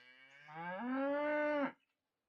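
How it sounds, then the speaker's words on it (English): A single long, drawn-out cow moo from the distance, rising then cutting off, clear and fairly distinct with no other sounds around it. "in the distance you can kind of hear them mooing as well"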